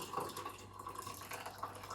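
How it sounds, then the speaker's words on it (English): Milk pours in a gentle, continuous stream into a mug, soft and close, with a faint trickling texture throughout. "Pour in your milk first"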